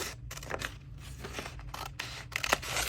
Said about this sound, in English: So I am going to cut it in half.